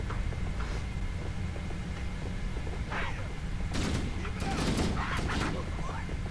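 Gunfire and explosions from the Halo 1 campaign video game crackle in bursts over a low droning background, with a cluster of sharp, louder blasts building toward the end.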